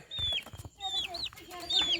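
Newly hatched chicks, one with weakened limbs, chirp and cluck close by with a mother hen in short high peeping calls, with low soft clucks and faint rustling between them.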